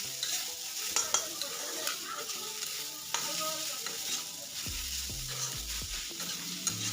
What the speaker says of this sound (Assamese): খন্তিৰে এনেকৈ ভাজি থাকিম